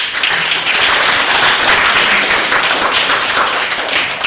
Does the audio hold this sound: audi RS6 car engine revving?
no